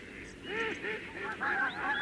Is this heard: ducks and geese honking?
yes